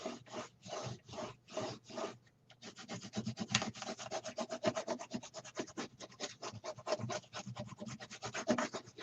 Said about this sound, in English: You want to burnish it really,